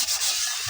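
Raw chicken skin scrubbed with papaya leaves, a continuous rough rubbing and swishing texture, close and steady.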